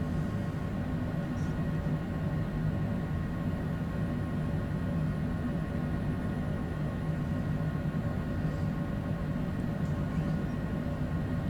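A Longitude business jet taxiing to the runway at Providence in a flight simulator gives a steady, even engine whine and rumble with no change in level and no voices.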